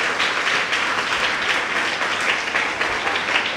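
An audience bursts into steady applause at a children's book-talk event, a dense, even clapping that holds for a few seconds without speech.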